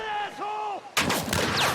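Pistol fire in The Last of Us remake erupts as a loud sharp report with reverberating tail, following a stretch of tonal vocal-like sounds.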